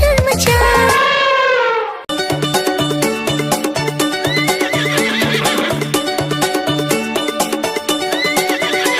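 A horse neighs loudly in a long whinny inside a children's rhyme, then a bouncy musical backing comes in with steady clip-clop hoofbeats.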